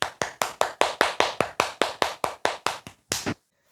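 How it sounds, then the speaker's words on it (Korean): One person claps hands in a steady run of about fourteen crisp, evenly spaced claps, close and clear, ending after a short pause with a final clap in a quiet classroom setting. "박수로 마무리할 텐데"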